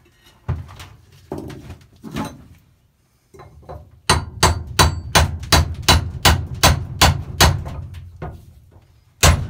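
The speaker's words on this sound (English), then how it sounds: "allow you to be able to tap this off now with a hammer and a chisel" Sharp metallic hammer taps on a chisel driving off a Citroën C3 Picasso front wheel bearing, a few spaced strikes followed by a fast, steady run of about a dozen ringing blows, close by.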